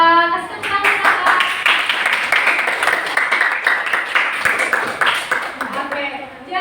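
A classroom of students claps for a classmate during a sociology lesson, a dense burst of applause lasting several seconds before tapering off, with a voice speaking briefly at the start.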